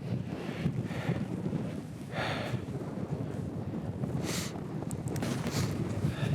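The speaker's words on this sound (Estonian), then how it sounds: "Korralik torm on." Storm wind on Mont Blanc in fog and blowing snow, a steady roaring gust buffeting the microphone with surging bursts throughout.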